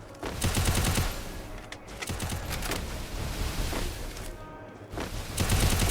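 Rapid gunfire rattles through a round of a shooting video game, with dense automatic bursts and sharp shots firing loud and close nearly without pause.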